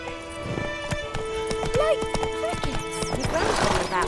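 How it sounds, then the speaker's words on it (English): Horse hooves clip-clop steadily as the mount gallops in The Witcher 3, with a whinny partway through and busy game sounds around it. "Not so fast, Roach. Let's go!"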